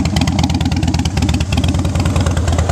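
A fuel-injected 2006 Harley-Davidson Softail Standard motorcycle idles close by, its loud, steady engine beating in an even, loping low rhythm throughout with no other sounds.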